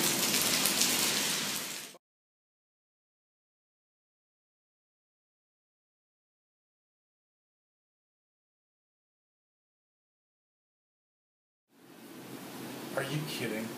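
Pouring rain falls in Aruba in two short bursts of dense, hissing patter at the start and end. A long stretch of complete silence separates them.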